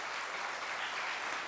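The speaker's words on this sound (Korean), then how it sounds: "박수 한번 쳐주세요" A church congregation applauds during a Sunday afternoon service at a Korean holiness church, a dense, steady patter of many hands clapping at even loudness throughout, with no voices.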